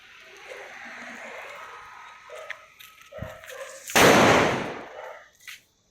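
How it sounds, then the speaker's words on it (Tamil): A string of firecrackers set off outdoors for the Karthigai Deepam festival erupts in a loud, dense burst of rapid crackling pops that lasts over a second and then fades out, after quieter scattered background noise. "பட்டாசு இது சரம். சரவடி"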